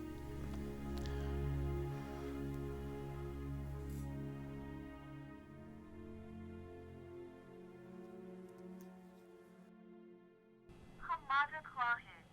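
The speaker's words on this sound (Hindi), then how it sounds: "परी पैकर, फोन लगा उसको।" A telephone is dialed, with a short run of quick beeping tones at the end after a long stretch of low, steady droning background music.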